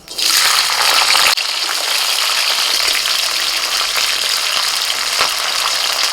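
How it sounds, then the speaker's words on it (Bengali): Green beans dropped into hot oil in a kadai for homemade chow mein, a loud, dense frying hiss that jumps up at the start and then holds steady, close and without talk. "কড়াইতে আবারও তেল দিয়ে দিয়েছি তেলটা গরম হয়ে গেছে এখন প্রথমে দিয়ে দিচ্ছি আমি বিনস"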